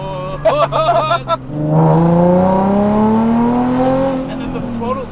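Several short throttle blips, then a rare Nissan 350Z NISMO 380RS sports car engine revs up with rising pitch and holds a loud exhaust roar before easing back.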